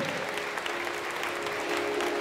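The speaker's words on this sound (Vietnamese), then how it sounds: "Mời toàn thể các con dành một tràng vỗ tay thật lớn để cùng chào đón Đại sứ Nguyễn Thanh Sơn." An audience claps steadily to welcome an ambassador, Nguyễn Thanh Sơn, at an exchange event. The applause is dense and sustained, with a faint steady tone running beneath it.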